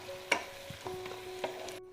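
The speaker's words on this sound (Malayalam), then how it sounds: "ഇനി കോളിഫ്ലവറും ഈ ഗ്രേവിയും കൂടി നന്നായിട്ടൊന്ന് മിക്സ് ചെയ്തെടുക്കണം." Fried cauliflower being stirred into manchurian gravy for Gobi manchurian, a few soft, close scraping stirs with a faint sizzle underneath and no talking.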